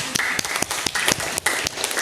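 A live audience claps briefly during an Indonesian religious talk on marriage, a short burst of scattered, moderately loud hand claps lasting about two seconds with no talking over it.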